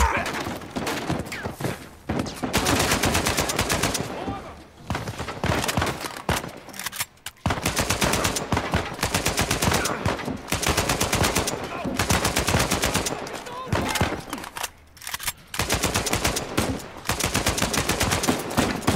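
Gunfire in Uncharted 4 rattles in long bursts of rapid shots, loud and dense, broken by short pauses between volleys.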